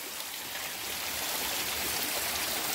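Water flowing steadily along a stream on a hike, a continuous broadband rush and trickle that holds at an even, moderately loud level throughout with no talking.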